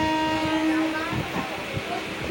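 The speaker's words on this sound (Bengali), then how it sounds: "বাগবাজার স্টেশন থেকে ট্রেনে উঠলাম" Inside a train that has just left Bagbazar station, with heavy rain falling outside, a steady mechanical rumble runs under a sustained tonal whine.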